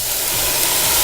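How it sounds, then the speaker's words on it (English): Chicken stock sizzling as it hits a hot pan of browned pork and turnips, a steady close hiss with no break for the whole second. "I love that sizzling sound."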